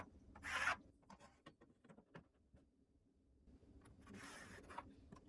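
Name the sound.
drawing frame lines on a wall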